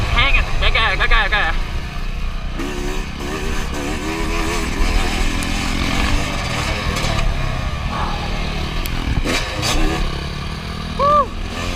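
A 450 dirt bike on a motocross track at South Fork MX, engine revving and droning continuously with rising and falling pitch, while a rider talks over it.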